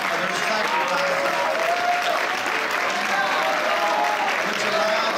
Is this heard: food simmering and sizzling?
no